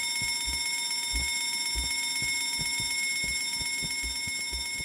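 Repeated bell rings in a game round with three players racing to finish a back row, sounding as a steady series of short metallic strikes against a constant electronic hum, with no talking.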